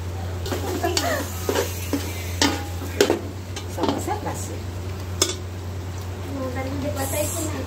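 Onion fries in a pan with red chili powder being added, a soft sizzle under repeated spoon stirs and clinks against metal, with a voice talking over the cooking.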